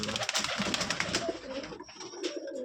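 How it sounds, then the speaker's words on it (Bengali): Pair of flying pigeons cooing close by, soft repeated throaty coos over faint background noise, no talking. "এই যে এক জোড়া পুরা বাজির কবুতর, এটা ফ্লাইং এর জন্য বেস্ট"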